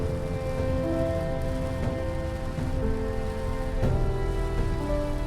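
Rain falls steadily on a surface during a mountain-pass stretch of an overland road trip, a constant close patter with a few sharper drop hits and a faint tonal hum underneath, no voices.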